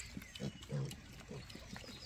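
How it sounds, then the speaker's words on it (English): Pigs feeding in a farm pen give low grunts and snuffling oinks, several animals at once, faint and somewhat distant over a steady background. "just keep her in this big pen while all these other pigs are getting chow time"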